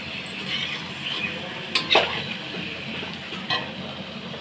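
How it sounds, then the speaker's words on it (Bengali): Chicken meat stirred and sautéed in a pot, a continuous close sizzle broken by a few sharp scrapes and knocks of the spoon. "এই যে কষানো হচ্ছে মাংস"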